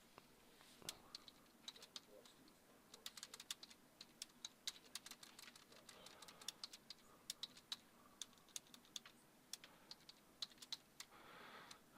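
Rapid, irregular clicks of typing on a computer keyboard, steady bursts of keystrokes throughout, close and fairly quiet.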